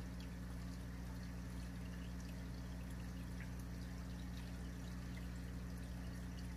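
Water pouring steadily into a 5-gallon bucket while sorting for small shrimp, a continuous close splashing flow over a low hum, with no talking.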